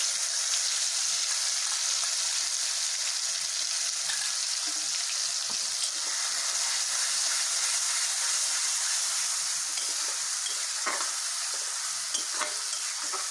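Spice masala tadka for Bihari-style matar paneer fries in hot oil in a kadhai, a loud, steady sizzle with soft stirring scrapes, heard alone without talk.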